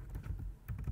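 A few quick keystrokes on a computer keyboard, soft clicks close by in a brief burst, faint and with no speech.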